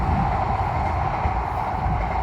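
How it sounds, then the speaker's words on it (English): A train rolls past continuously, a steady broad rumble with a low mechanical undertone, fairly loud and close, with no voices over it. "there you go. There's the beautiful train."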